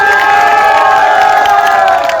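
Loud, sustained cheering and shouting from a large crowd at a political rally for an election campaign, a dense continuous roar of voices with whoops throughout and no clear breaks.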